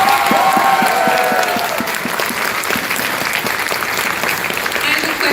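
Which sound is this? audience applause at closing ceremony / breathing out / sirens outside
audience applause at closing ceremony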